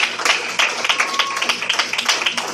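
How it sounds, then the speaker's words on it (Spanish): A church congregation breaks into applause during a Spanish-language sermon, a dense, steady wash of many hands clapping at close range for the whole span, with a few louder individual claps standing out. "Denle un aplauso al Señor."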